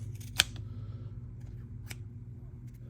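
Vampliers pliers make one sharp, close snip through material, a brief click standing alone against a low steady background hum.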